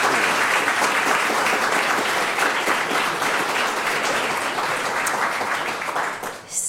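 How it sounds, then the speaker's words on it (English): An audience at a Columbus Metropolitan Club forum applauds the local cartoon creatives, steady broadband clapping that holds for several seconds before tapering off at the end. "I would ask that you give them all a round of applause"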